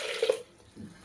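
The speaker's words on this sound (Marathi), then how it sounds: "पाणी टाकून घेऊ" Water splashes briefly into a pressure cooker holding moth beans, a short close pour lasting under half a second, followed by faint quiet room sound.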